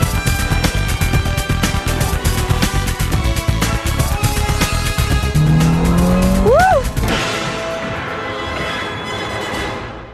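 A Ferrari supercar drives hard with a loud engine and dense rhythmic mechanical pulsing. Its tires squeal in a rising screech near the end, then the car fades to a quieter roar.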